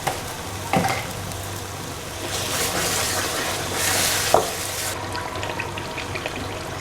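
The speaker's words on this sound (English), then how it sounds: "I'll be throwing that in now. That's some coriander powder." Coriander powder goes into a frying base for smoky Nigerian party jollof rice, with a soft sizzle, a couple of sharp utensil knocks and a swell of hissing as the pot is stirred.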